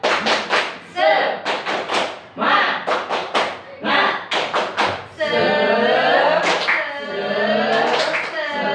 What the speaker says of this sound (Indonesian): Kita tepuk semangat bersama-sama supaya lebih semangat.